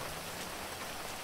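Steady rain pouring down in the video game GTA 5, a continuous dense hiss with no pauses or talk.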